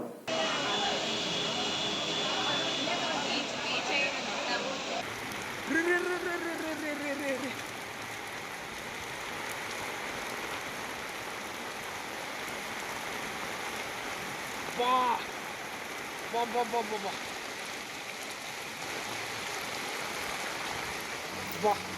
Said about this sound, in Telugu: మంగళవారం ఒక్కసారిగా కురిసిన భారీ వర్షానికి పట్టణ ప్రధాన రోడ్లు కాలనీలు రోడ్లు జలమయమయ్యాయి